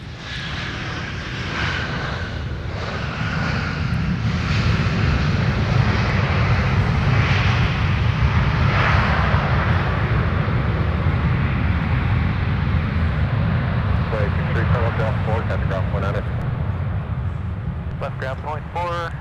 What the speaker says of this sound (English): let's take another look at this ex-Northwest A319 coming in for Delta